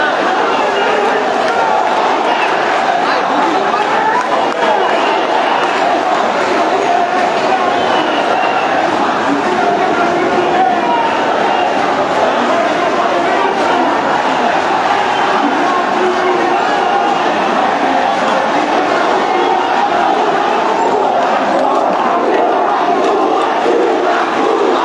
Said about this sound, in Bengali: এখন শিক্ষার্থীরা যারা রয়েছেন তারা কিন্তু আন্দোলনের মুখে এই মুহূর্তে স্লোগান দিচ্ছেন